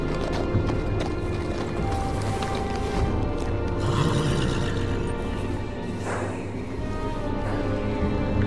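Horse hooves clip-clop steadily in Telltale's Game of Thrones video game, a rider arriving at the gate of the Night's Watch, continuous and fairly close over a dense game soundscape with occasional neighing.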